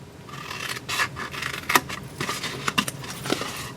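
Scissors snip a section off a piece of material in a few quick, close cuts, with rustling and scraping of the material between the snips.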